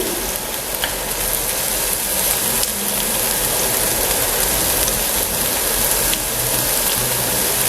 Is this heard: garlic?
yes